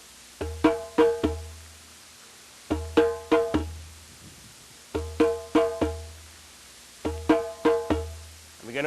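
A drum beat in repeated phrases of four struck hits with a deep bass stroke under each group, loud and close, with short gaps between phrases and no talking.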